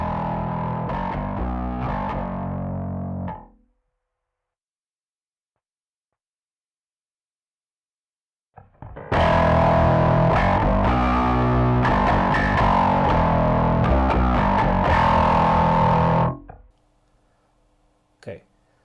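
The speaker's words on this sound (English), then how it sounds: "And now for a really driven sound, I will add a neural capture of a Billy Sheehan pedal." A heavily distorted, saturated guitar played through a Neural DSP Quad Cortex neural capture of a Billy Sheehan pedal sounds in two loud sustained phrases separated by silence, with thick harmonic grit.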